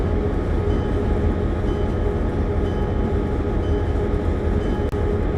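An EMD F7 locomotive set hauls a train toward Bakersfield, a steady loud rumble of engine and rolling cars running throughout without pause.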